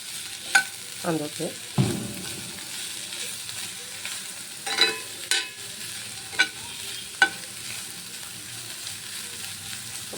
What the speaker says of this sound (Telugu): ఇలా మొత్తం ఫ్రై అవుతాయి కదా. ఇప్పుడు క్యాప్సికమ్ యాడ్ చేస్తున్నాను.